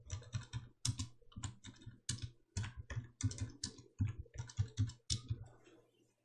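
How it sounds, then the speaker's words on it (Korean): Steady typing on a computer keyboard, close up, with quick bursts of key clicks separated by short pauses. "전기차 값부터 엔터 눌러가며 계속 타이핑 하십니다."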